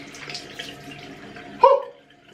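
Cold tap water runs softly and steadily while a face is rinsed, closing with a brief louder splash near the end and then quiet.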